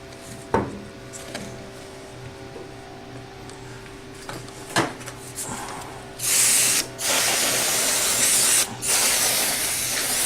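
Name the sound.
canned air spraying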